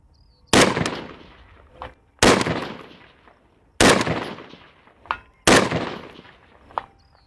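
Four loud rifle shots firing 77 grain Sierra Match King bullets at a long-range outdoor shoot, each a sharp crack with a decaying echo, spaced roughly a second and a half apart, with a faint later report after each.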